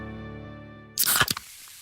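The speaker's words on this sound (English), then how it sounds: "That's the sound of a Mountain Dew." A Mountain Dew bottle being opened: a quiet held musical tone is cut by a sharp, close fizzing hiss and crackle lasting under half a second, then fading.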